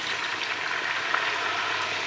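Seasoning frying in a pan while roast chicken legs cook, a steady broadband sizzle that holds evenly throughout at moderate level, with no talking.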